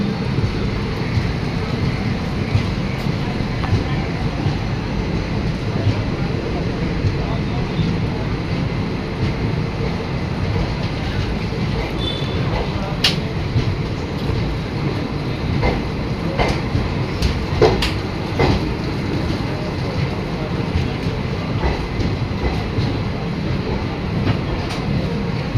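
The Howrah–Kathgodam express, train 13019, rolls into a station in a constant heavy rumble of wheels and carriages, with recurring metallic clacks and squeaks, faint voices in the background.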